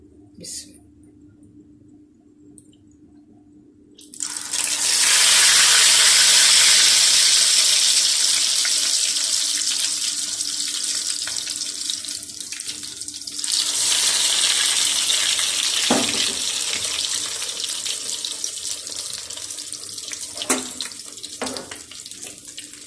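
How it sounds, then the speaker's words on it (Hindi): Bread frying in oil in a pan after being dipped: a loud, hissing sizzle bursts in suddenly after a few quiet seconds and carries on steadily, swelling again midway, with a few clinks. "अब मैं ब्रेड को टिप करके लगाने लगी हूँ, फ्राई करने लगी हूँ।"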